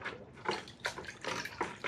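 Water sloshes and splashes as a tool is dunked repeatedly in a bucket of clean water during engine block prep on a 2008 Acura MDX, with soft irregular splashes and no talking.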